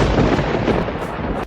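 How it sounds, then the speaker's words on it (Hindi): Loud, close rumbling thunder from an unseasonal rainstorm rolls continuously with a dense roar, then cuts off abruptly at the end. "ये बिना मौसम की गरजती हुई बारिश हमें क्या संकेत देती है?"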